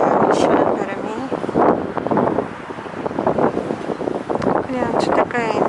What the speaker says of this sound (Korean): 바람이 불어주네요. 시원한 바람이.